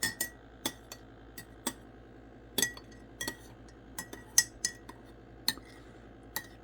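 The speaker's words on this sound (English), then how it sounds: "Then just give that a stir." A metal spoon clinks against a coffee cup as coffee with cream is stirred. The taps come in an irregular series of a dozen or so, sharp and close against quiet background noise.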